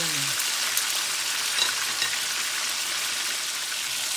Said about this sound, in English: try to really render the fat so that it becomes crispy